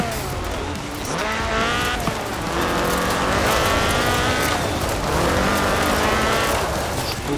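Ford RS 1800 rally car with a fuel-injected 1790cc Cosworth BD engine in Forza Horizon 4, revving loudly through rising and falling gear pulls with tire squeal, steady and close without any talking.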